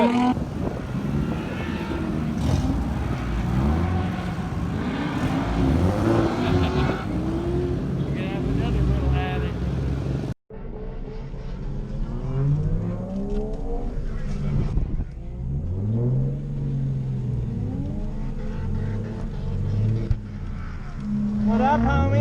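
Lexus IS300 drift car on a race track, its engine revving up and down in sweeping rising and falling pitches, loud and sustained with a brief cut midway, while people talk over it.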